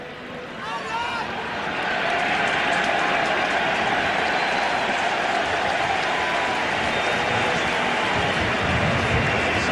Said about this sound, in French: Si on entend les acclamations